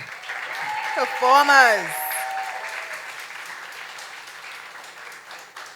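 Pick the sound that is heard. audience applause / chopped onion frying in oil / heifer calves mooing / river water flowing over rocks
audience applause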